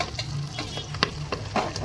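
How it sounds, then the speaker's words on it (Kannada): Chopped onions fry in a pan for a vegetable bath, a close, steady sizzle broken by several short scraping and stirring clicks. "ಈರುಳ್ಳಿನ ಬ್ರೌನ್ ಆಗೋ ಮಟ್ಟಿಗೆ ಸ್ವಲ್ಪ ಹುರ್ಕೊಳ್ಳೋಣ ನೀಟಾಗಿ"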